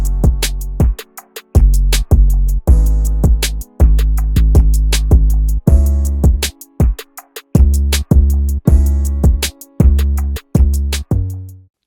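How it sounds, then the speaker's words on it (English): Chord progression with each chord struck on the downbeat of every bar, plain and without timing changes: a loud, evenly spaced series of sustained chords, each cut off sharply before the next begins, played alone. "I've got a chord progression here where each chord is hitting on the downbeat of each bar"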